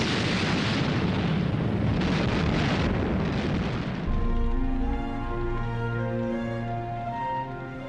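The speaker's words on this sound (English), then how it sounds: "The Soviet T-34s drove into the German lines and opened fire at point-blank range." Soviet T-34 tanks firing at point-blank range into German lines in World War II combat: a dense, roaring wall of explosive blasts for about four seconds, then giving way to a sustained tonal drone, loud and close throughout.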